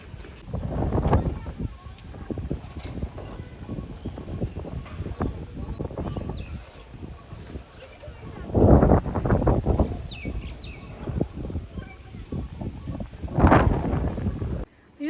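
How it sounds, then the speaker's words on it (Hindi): Strong wind blows outdoors in a rural village, rushing and buffeting the microphone in repeated loud gusts, with a voice talking over it at times. "यहाँ पे तेज़ हवा चली है"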